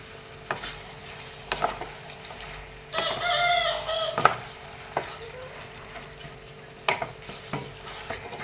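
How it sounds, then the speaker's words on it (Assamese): A utensil scrapes and stirs chicken curry with ginger and garlic paste in a pan, sounding as intermittent scrapes and knocks with a faint sizzle and a brief busier stretch in the middle. "এইখিনিও একেলগে ইয়াৰে লগত লৰাই দি দিলোঁ।"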